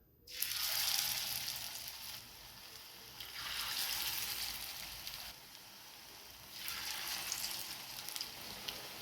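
Vegetable cutlets made with peas, carrot and potato fry in hot oil, giving a soft, steady sizzle that swells and fades in waves, fairly quiet and close, with no voices.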